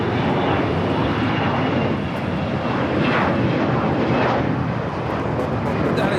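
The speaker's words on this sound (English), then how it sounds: "That is a Global Express taking off" A Global Express business jet takes off at LAX, its loud, continuous engine roar filling the air at close range with slow swells in intensity and no talk.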